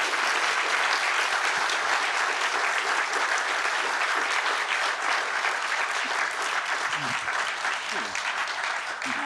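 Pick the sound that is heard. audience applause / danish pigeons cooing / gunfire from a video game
audience applause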